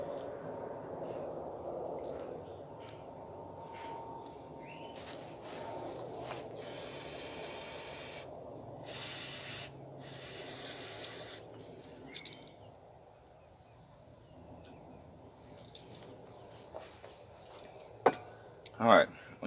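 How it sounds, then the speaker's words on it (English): An aerosol can sprayed into a garbage can outdoors gives three separate hissing bursts in the middle, each lasting about a second, with insects chirping in the background and a few clunks near the end. "spraying that into the garbage can to make sure it didn't kill my grass"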